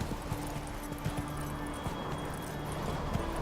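Hooves of the horse Roach clip-clopping in a steady galloping rhythm in The Witcher 3, close and continuous over low game ambience.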